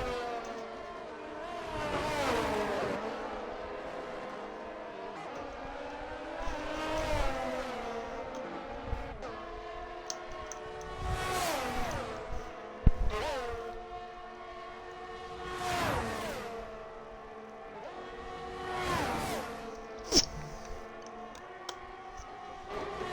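Aston Martin race cars on a Miami circuit in a racing video game, engines rising and falling in repeated high-revving sweeps as cars accelerate and pass, with gear-change dips and a steady background drone.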